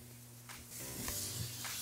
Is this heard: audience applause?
no